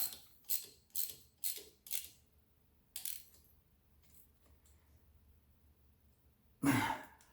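Ratchet wrench snugging down bolts while working on an engine: a run of quick clicking ratchet strokes in a row, a few more isolated clicks, then a louder metallic clank, close and quiet, no talking.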